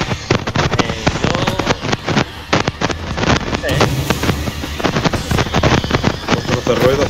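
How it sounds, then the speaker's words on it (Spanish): Strings of firecrackers crackle in rapid, dense bursts inside the video game State of Decay 2, loud and continuous with sharp pops throughout, while a voice talks over the noise. "Tiras de petardos."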